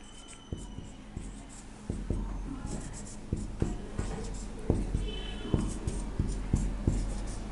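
Pen writing multiplication-table questions on paper, a series of quiet close scratches and taps at a steady rhythm, with light background noise and occasional soft speech.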